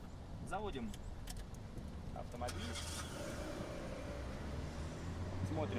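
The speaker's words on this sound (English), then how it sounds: "Start the car." A car fitted with a Piton anti-theft steering wheel lock is started with its key: a jingle of keys, then the engine catches and settles into a low idle hum, with a faint voice in the background.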